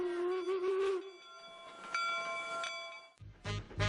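A steam train rumbles along with a long, sustained horn or whistle tone, ending in clanking, rattling noises close by.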